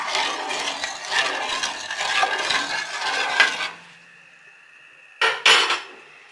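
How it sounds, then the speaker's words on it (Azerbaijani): Salt dissolving in water with a spoon stirring and scraping continuously inside a pot for several seconds, then a pause with a faint ringing tone and two short knocks of the spoon against the pot. "Yaxşı-yaxşı qarışdırıb həll edirik."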